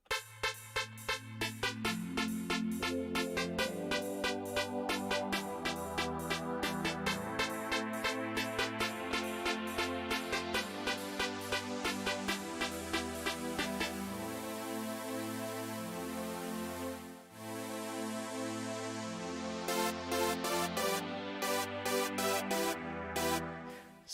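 Synth riff in FL Studio for an NRG bounce track, a low-pass filter slowly opening so the pulsing chords brighten over about twenty seconds, with a steady bass pattern underneath.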